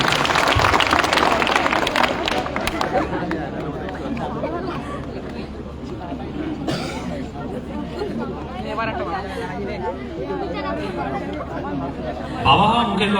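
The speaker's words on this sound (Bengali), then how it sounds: "একটা জোরে করতালি হয়েছে ওনার জন্য।" A television studio audience on a Zee Bangla show breaks into loud applause that fades into crowd chatter and murmuring, with a short burst of clapping returning near the end.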